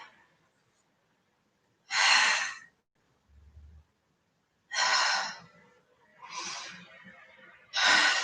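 Heavy breathing during a Pilates exercise: four loud, close exhales and sighs in separate bursts a couple of seconds apart, with quiet gaps between and no talk.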